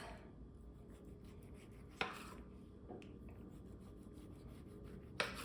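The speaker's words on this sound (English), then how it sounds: "I'm just taking my favorite knife that's super sharp and I'm just gonna cut it into pieces" A very sharp kitchen knife cuts apples into inch-sized pieces for an apple cobbler, giving a few distinct chopping knocks against the board over a faint, steady background.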